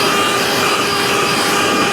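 A leaf blower runs at its top turbo setting, a loud, steady, full-band rushing whoosh of air with no pauses.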